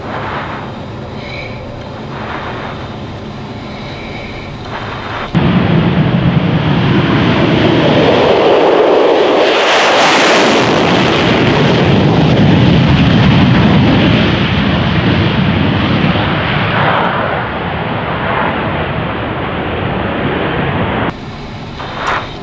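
An F-16 Viper fighter jet roars through its takeoff roll at the Wings Over Houston 2022 air show, a sudden, very loud full-throttle blast that swells to a peak as the jet passes near, then holds a heavy roar before easing off.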